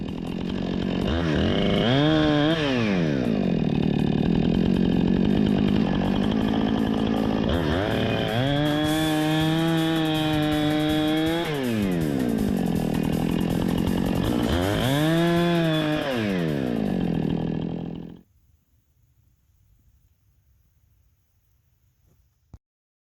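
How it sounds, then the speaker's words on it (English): A chainsaw cutting firewood roars steadily for about eighteen seconds, engine pitch dipping and rising three times as it bites into wood, then cuts out to near silence. "it's been going hard as his main chainsaw during that time"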